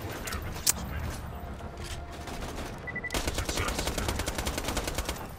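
Hyperion SMG firing in Borderlands 2, a quick sharp shot early, then a rapid, evenly spaced automatic burst that runs steadily to the end, loud and close.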